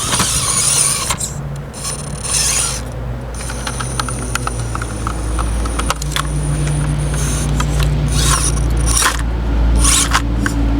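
An SCX24 RC rock crawler with its drivetrain binding on rocks: a continuous whining motor with ratcheting clicks, gear grinding and scraping that surge and ease as it climbs, close and fairly loud.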